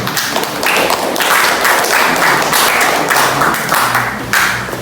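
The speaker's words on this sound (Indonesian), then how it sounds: "Kita berikan tepuk tangan." A classroom audience claps after a presentation, a dense, continuous, fairly loud burst of many hands that rises and falls slightly in waves across the whole stretch.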